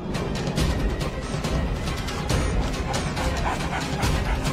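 Cartoon dogs barking and yipping in a Hindi animated story, a busy overlapping cluster of barks running steadily through the scene with no one speaking.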